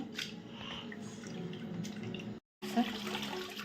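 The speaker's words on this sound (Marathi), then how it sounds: "तर चला दोन तीन पाण्याने स्वच्छ धुवून घ्यायचं" Grated potato is rinsed in water in a kitchen, with steady close splashing and dripping from a tap that cuts out briefly, then resumes.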